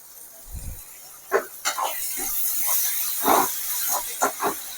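Chopped onion, tomato and green chilli sizzle in oil in a pan. A steady hiss sits under a few louder spits and stirring knocks.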